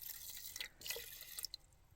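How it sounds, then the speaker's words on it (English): A cup of water poured into rice for sushi inside an SUV, giving a brief, quiet splash with small dripping trickles over a couple of seconds, no talking. "now we're going to go ahead and add 1 cup of water"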